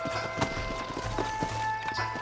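Horses clip-clopping in the video game Red Dead Redemption, several hooves thudding at a walking pace close by over a steady background hum, with a little speech.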